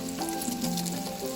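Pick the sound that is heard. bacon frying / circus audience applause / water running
bacon frying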